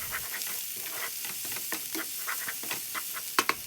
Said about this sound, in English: Add the green chilies and fry for about 3 minutes.